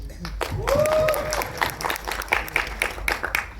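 Applause and crowd noise at a film trailer launch event, a mix of clapping and murmuring with a short whistle-like tone early on, while a voice speaks over the crowd.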